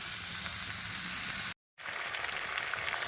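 Ingredients for a fish-head and pui shak dish frying in a pan, a loud dense close sizzle that drops out briefly midway and then resumes just as strongly.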